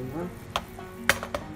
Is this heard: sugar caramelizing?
yes